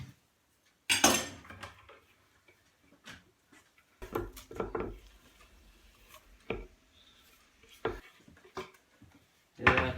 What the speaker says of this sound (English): Give them a stir, mix them in with the butter.